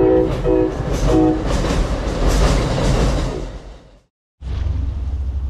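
A train rumbles loudly past up close, its horn sounding several blasts early on over clattering wheels, before the noise briefly cuts out and resumes.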